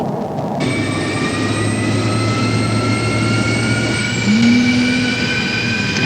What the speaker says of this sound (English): Seconds later, the engine is up to idle speed